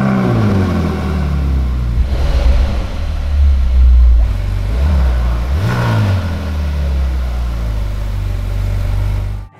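A 2014 Ferrari California 30 engine starts and rumbles loudly up close, with deep low revs swelling and dropping in a few blips before cutting out abruptly at the end.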